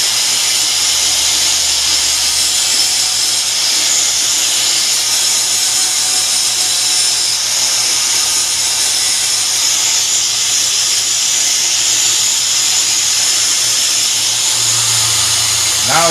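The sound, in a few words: angle grinder flattening a pole spear slip tip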